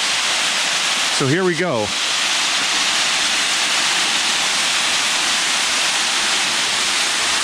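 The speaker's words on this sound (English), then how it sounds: "this is my trip behind the falls" Loud, steady roar of Buttermilk Falls in Pennsylvania, seen from behind the falling water, a dense rushing wash that fills the whole scene; someone speaks briefly near the start, with a short whistled tone over the roar.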